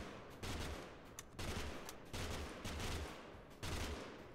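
Repeated bursts of video game gunfire, four loud volleys with short gaps between them, heavy and booming with no talking.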